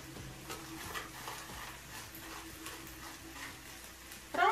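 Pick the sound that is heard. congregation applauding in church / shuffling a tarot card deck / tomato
tomato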